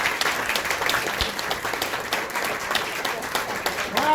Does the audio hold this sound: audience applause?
yes